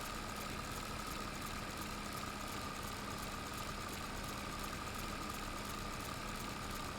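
A tractor engine in the farming game Farming Simulator 22, a steady low idling drone with a constant hum, even in loudness throughout and heard alone.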